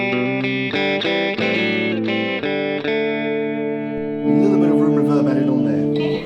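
Electric guitar played through a Vox Valvetronix VTX150 Pro Neodymium amp with reverb added, sustained chords ringing out loud and alone before a thicker strummed passage near the end.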